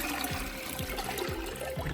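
Wheat milk made from coarsely ground soaked wheat, strained through a cloth, trickles and drips steadily into a vessel, with a soft continuous liquid flow and faint rhythmic low thuds underneath.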